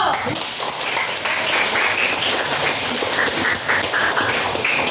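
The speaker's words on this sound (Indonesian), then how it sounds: "tepuk tangan dulu buat Revaldo." An eighth-grade class at SMPN 29 Bandar Lampung claps for Revaldo, a dense, close burst of many hands with some voices underneath, holding steady for several seconds.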